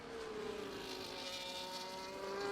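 A race car at Baku runs down the long home straight toward the pit lane, its engine holding a steady, sustained high drone that carries on without a break.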